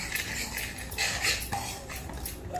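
Semolina and mango juice are stirred together in a bowl, a spoon scraping and clinking steadily against the sides in soft, irregular strokes.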